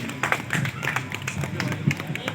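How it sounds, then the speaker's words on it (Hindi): Scattered clapping from a gathering of a pigeon lovers' association, irregular and moderately close, with voices murmuring underneath. "अली भाई के लिए जोरदार तालियां होनी चाहिए"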